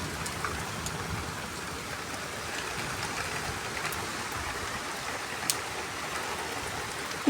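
Steady rain falling outside a house near a tree, an even soft hiss of drops with occasional sharper patters, continuous and fairly quiet, no voices.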